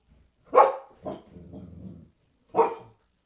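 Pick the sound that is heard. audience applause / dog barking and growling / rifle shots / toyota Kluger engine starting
dog barking and growling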